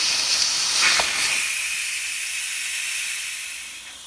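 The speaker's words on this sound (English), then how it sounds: "now I'm gonna depressurize the Instant Pot" An Instant Pot venting steam as it depressurizes after cooking blueberry oatmeal, producing a loud, close hiss that swells early, then slowly tapers off, with no voices.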